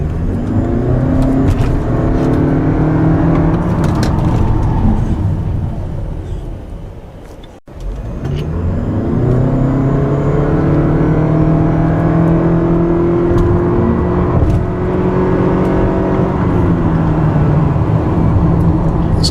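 A 2013 Toyota Camry Hybrid accelerates hard, its engine note climbing in two long rising sweeps separated by a brief dip, loud and steady from inside the cabin.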